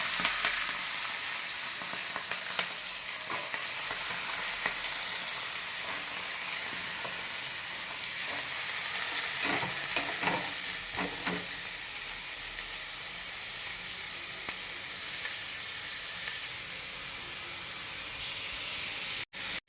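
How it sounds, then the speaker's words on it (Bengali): Steady, loud sizzling of potatoes and spring onions frying in hot oil, a continuous hiss with occasional crackles and stirring, no talking. "এবার আমি পেঁয়াজকলি আর আলুটা এর মধ্যে দিয়ে দেবো, তেলের মধ্যে, গরম তেলের মধ্যে দিয়ে দেবো।"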